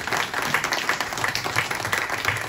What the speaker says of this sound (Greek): Το χειροκροτάει και ο ίδιος.